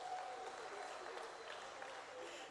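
An audience at a provincial matric exam results announcement applauds steadily, a dense wash of clapping that carries on evenly throughout.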